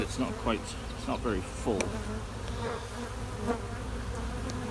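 Dense buzzing of many honeybees swarming around a sparsely filled hive during a bee rescue, a steady close hum with occasional louder passes and a brief spoken remark over it.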